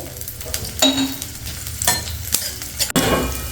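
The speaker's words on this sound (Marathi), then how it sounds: "आता आपण हे आलं लसूण टाकणार आहे थोडं एखादा मिनिट आपल्याला फक्त सर्व परतून घ्यायचे" Ginger and garlic sautéing in a little oil in a pan, with a soft sizzle under several sharp, close scrapes and knocks of a stirring utensil.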